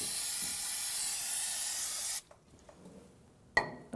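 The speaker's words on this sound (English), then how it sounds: "Now let's clean it up with some brake clean" Brake cleaner spraying onto the brake of a 1997-2006 Jeep Wrangler, a loud steady aerosol hiss lasting about two seconds before cutting off, followed by a few faint clicks and a short sharp knock.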